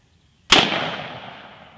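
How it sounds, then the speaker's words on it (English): A single sharp .357 revolver shot cracks at an outdoor shooting range, loud and close, followed by a long fading echo tail. "Now, we shot a little low"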